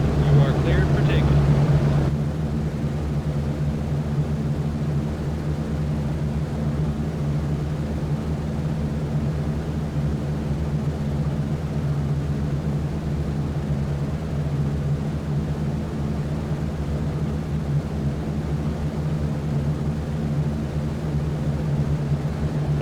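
Steady multi-engine drone of a B-17 Flying Fortress bomber at takeoff power in a flight simulation game, a continuous low rumble holding evenly throughout after a slightly louder opening.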